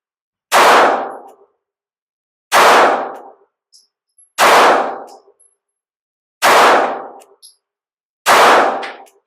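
PSA Micro Dagger pistol fired at steel targets: five evenly spaced loud shots about two seconds apart, each a sharp crack with a ringing metallic clang, close and without talk.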